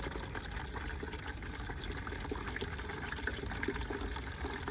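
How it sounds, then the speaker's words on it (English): Fresh water gushing steadily into a chicken water feeder on an allotment, a continuous close splashing fill with an even, unbroken flow for several seconds. "We are topping the water feeder up for the chickens. This is fresh water, by the way."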